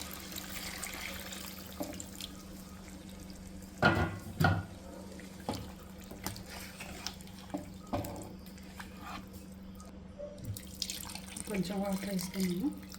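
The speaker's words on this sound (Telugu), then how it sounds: "గ్రేవీకి సరిపోయే వాటర్ వేసుకుందామండి." Water is poured into a pot of chicken curry to make the gravy, a soft splashing and trickling at moderate level, broken by a few sharp clanks of utensils, with a low steady hum behind.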